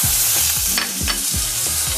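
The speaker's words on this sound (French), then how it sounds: "je vais pouvoir faire cuire mon foie gras" Foie gras sears in a very hot pan, giving a loud, steady sizzle with repeated scraping strokes of a utensil against the pan.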